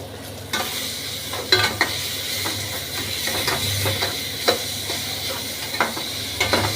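Raw mango curry with green chilli is stirred in a sizzling pan, a continuous frying hiss marked by repeated scraping clinks of the spoon against metal at an irregular rhythm, close up with no speech.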